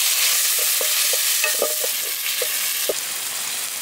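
Tomatoes cooking down in a pan for drumstick fish curry, a continuous sizzle with scattered soft scraping taps of a spoon stirring them, close and steady.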